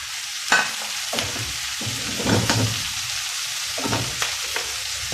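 Shrimp fry in a garlicky oil pan for Filipino-style gambas al ajillo, a constant bright sizzle punctuated by repeated clattering stirs and scrapes every second or so, close and with no talk.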